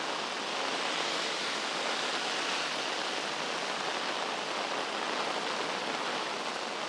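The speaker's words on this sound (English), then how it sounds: "rain as well, in that when it's this heavy, kind of just the wind is pushing it all over the place" Heavy wind-driven rain pours onto a street in Geylang, Singapore, a dense, constant hiss with no break and no voices.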